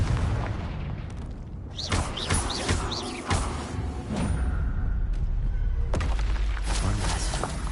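Repeated Confringo spell blasts boom out in several separate bursts spread over a few seconds, each a sharp hit with a rumbling tail, set against a steady low background.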